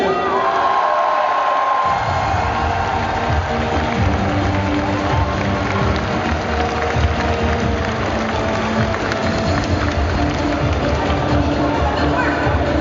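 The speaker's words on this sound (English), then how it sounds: "Je vous demande de faire un tonnerre d'applaudissements pour Amanda Tapping." A convention crowd at the Toulouse Game Show gives Amanda Tapping a loud, sustained ovation, with dense applause, cheering and whoops filling the hall steadily throughout.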